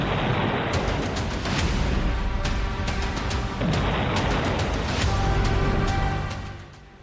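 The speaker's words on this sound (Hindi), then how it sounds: "आग की लपटों में लिपटी बाइक और जोरदार धमाकों की ये आवाज।" A burning motorbike gives off a rapid string of loud, sharp bangs and crackling blasts, dense and continuous for several seconds before trailing off.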